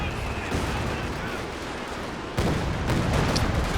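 Gunfire and artillery blasts from a Company of Heroes 2 match, with a Panzer IV firing and Grenadier infantry fighting, form a dense, continuous roar of battle that grows louder and heavier partway through.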